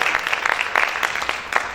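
A church congregation clapping steadily during a worship service, a continuous crowd of overlapping hand claps with a lively, irregular rhythm.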